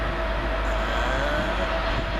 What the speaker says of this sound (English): Freight train number 7 for the day is 66168